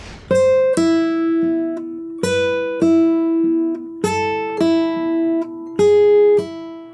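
Spanish guitar pull-off lick descending through fretted notes, played slowly as repeated phrases: each starts with a sharp pluck followed by softer pulled-off notes, close and clear with short gaps between.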